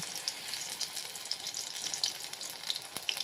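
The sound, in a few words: lentil and spring onion pakoras frying in hot white oil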